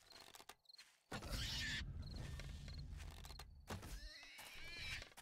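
A pig in the survival game 7 Days to Die squeals in pain: loud, harsh cries that repeat and swell for several seconds, with no one speaking.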